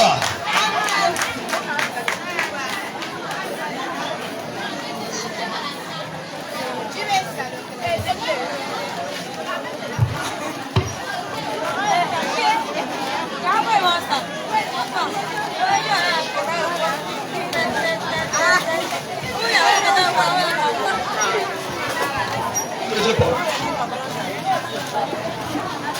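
A large crowd at an open-air market evangelism gathering chants, cheers and calls out together in loud continuous waves, with a lead voice shouting over the dense babble throughout.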